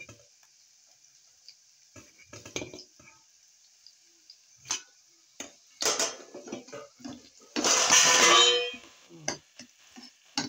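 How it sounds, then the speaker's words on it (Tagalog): A steel plate drops in a home kitchen while an omelette pizza is being made, giving one loud, clattering crash that rings for about a second, surrounded by quieter clinks and taps of cooking. "Hulog yung plato na steel."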